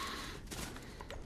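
Rapid gunfire in the Fortnite battle royale video game, a burst of quick overlapping shots heard faintly at some distance, with no talking over it.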